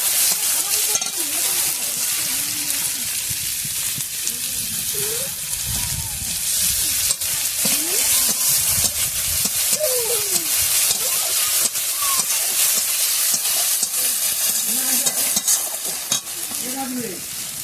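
Chilli powder, cumin paste and dried chillies sizzle in a hot pan as they are stirred, with continuous frying hiss, rhythmic scraping of the utensil, and a faint voice murmuring in the background.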